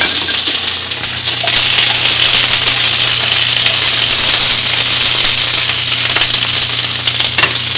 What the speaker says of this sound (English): You can hear that sizzling a little bit.